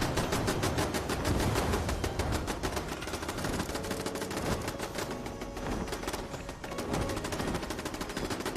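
Gun turrets in the Fallout 76 video game firing continuously, a dense, loud rapid rattle of automatic shots that barely pauses across the whole stretch, with no talk.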